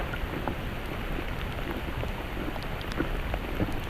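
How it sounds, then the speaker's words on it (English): Steady rain falls on the Gerard Hiking Trail in Oil Creek State Park, giving a dense, even hiss with scattered drops close by. It is fairly loud and continuous, with no voices. "we knew the rain was coming"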